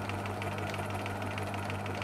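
A small sewing machine stitches a fabric gift label, with a steady close motor hum and a rapid, even needle chatter running continuously throughout.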